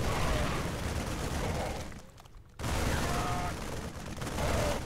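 Tank cannon fire in a StarCraft II Heart of the Swarm match, heard as dense, loud battle noise with booming shots, a brief quieter gap midway, then more gunfire and impacts.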